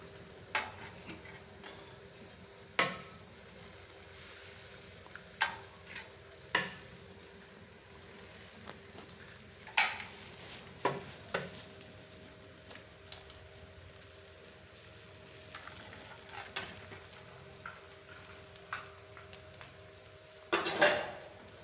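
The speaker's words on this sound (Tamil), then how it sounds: "எல்லா பரோட்டாவையும் மிக்ஸ் ஆகணும்." A metal spatula clatters and scrapes sharply against a pan at irregular intervals as chopped parotta and egg are stirred and fried, with a quiet sizzle underneath and no talk.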